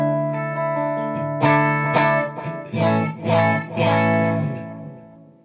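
Electric guitar played clean with pedals off, ringing sustained chords and a few struck notes in a clear, bright tone, building in strumming toward the middle and then fading out.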